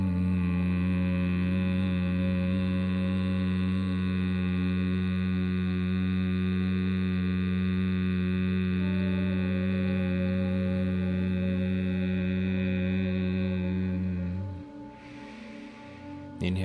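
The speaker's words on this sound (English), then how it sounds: "mouth is closed, and as you're exhaling, it's released with a audible hum" A long, steady, low hum made with the mouth closed during a slow Bhramari breathing exhale, holding a constant pitch for about fourteen seconds before stopping abruptly.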